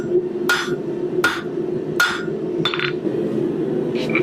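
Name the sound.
2-pound hammer forging corkscrew metal on anvil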